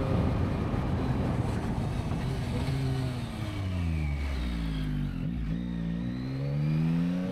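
A car engine braking down from 100 by downshifting, its steady loud drone stepping through falling then rising pitch sweeps as gears change, with no talk over it.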